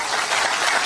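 Audience clapping at a campaign event in Iowa, a loud, dense, brief burst of many hands applauding together, steady throughout and with no talk.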